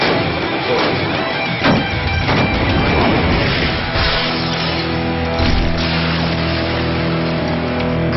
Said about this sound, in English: Taraji shooting this 50 caliber Barrett